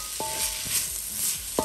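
A stir fry sizzles steadily in shea butter oil in a hot pan, with a couple of sharp metallic clinks from a utensil stirring through it.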